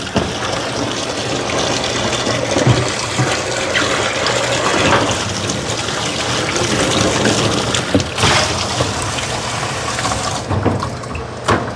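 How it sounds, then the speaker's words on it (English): Tap water runs steadily in a kitchen sink as an item is rinsed under it during catering prep for a party of 70, a continuous close splashing gush with a few brief clatters. "Let me just rinse this off real good"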